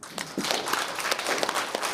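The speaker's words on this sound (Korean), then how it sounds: "김관정 도지사를 위해서 박수 한번 쳐주시기" Audience applause at a Korean residents' public hearing about a community sports center, a crowd clapping steadily for about two seconds in an indoor hall after a brief quiet start.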